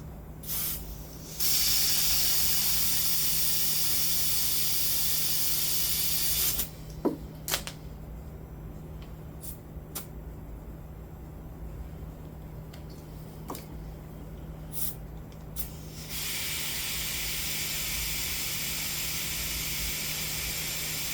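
Air hissing steadily from a compressor hose into a newly changed front tire on a 2003 Ford Escape, a loud continuous broadband rush that stops for about eight seconds with faint ticks and clicks, then resumes.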